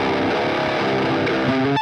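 Heavily distorted electric guitar through a Fortin NATAS pedal into an Orange Tiny Terror amp with the tone shift switch up, a dense, loud palm-muted chug that rings out briefly at the end.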